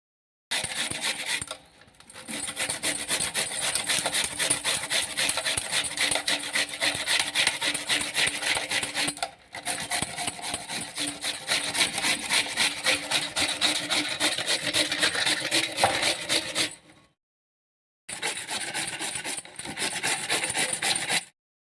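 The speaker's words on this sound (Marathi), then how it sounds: "गाजर सगळे किसून घेतलेले आहेत मी इथे गाजर आणि मुळा पण किसून घेतलेला आहे" Carrots and radish being grated by hand, a close, steady rasping scrape in rapid repeated strokes, broken by short pauses between bursts.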